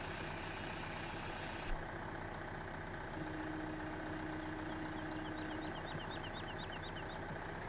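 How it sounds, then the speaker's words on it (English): Tractor engine in the Farming Simulator 15 video game on the Sosnovka map, a steady low idling rumble with a faint knocking texture that holds evenly throughout, with no talk. "Hoping this liquid tractor can drag this cylinder,"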